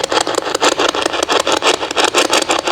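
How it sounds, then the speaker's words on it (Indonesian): Spirit box radio sweeping through stations during a ghost hunt in a house, giving loud, choppy bursts of static that pulse in a quick, steady rhythm with no voices over them. "Itu suara spirit box."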